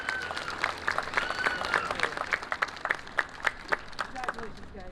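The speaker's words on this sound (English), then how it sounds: "Let's have another round of applause for all 6 of these awesome individuals." An audience claps steadily at a high school awards night, with a voice speaking over the applause.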